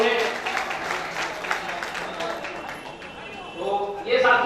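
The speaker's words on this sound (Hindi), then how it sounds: "हम चाहेंगे कि उनका जोरदार तालियों से स्वागत हो" An audience at a 2019 Pasi community gathering in Prayagraj applauds to welcome a former MLA, a moderate wash of clapping that dips midway and swells again at the close.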